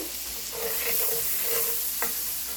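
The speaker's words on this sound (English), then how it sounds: "now let's add in our onions here. And we're going to cook this. Scrape that bottom of your pan." Onions cook in a hot skillet, a steady sizzle throughout while a utensil scrapes and stirs across the pan bottom in a few short strokes, with no talking.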